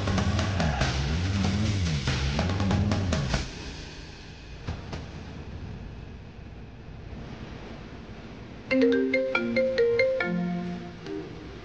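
A phone ringtone plays as a melodic electronic tune, loud at first, then breaking off into a quiet hiss. After a pause a second, brighter ringing pattern starts up close, with no voices.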